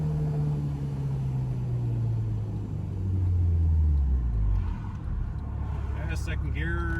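A Honda Civic with a swapped K24 engine is driven in second gear, its loud, close engine drone dominating throughout. The pitch of the drone gradually sinks and rumbles near the end.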